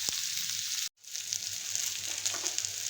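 Onions sautéing in a pan while being cooked for a mushroom dish, a steady close hiss of sizzling that cuts out for a split second near the start and then carries on evenly without talk.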